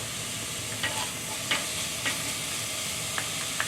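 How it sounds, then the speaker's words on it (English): Gai lan stir-frying in a pan gives a soft, steady sizzle broken by a few light clicks of a utensil against the pan, close but quiet, with no talk. "Simple stir fry."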